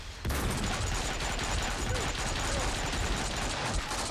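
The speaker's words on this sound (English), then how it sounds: "a lot of guys are shooting at you" Enemy gunfire rattles continuously in Max Payne 2, a dense stream of rapid shots from several guns firing at once, steady and loud throughout with no pause.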